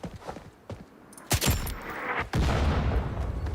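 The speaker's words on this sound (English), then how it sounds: "Who was shooting at me? Is this where that mortar is?" Mortar fire in the Roblox game Take a Seat: two loud, heavy booming shots about a second apart, each trailing into a rumbling roar, over lighter scattered thumps and movement.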